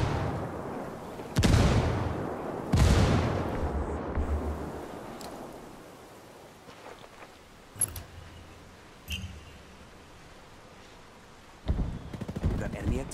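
Frag grenades burst in the Ghost Recon Wildlands shooter game: two heavy, close explosions in quick succession, each trailing off in a long rumbling decay, then scattered gunshots and another blast later, with voices around them.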